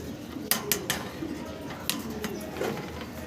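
Fancy pigeons at a pigeon farm coo softly in a low, steady murmur, broken by a few sharp clicks and flutters close by.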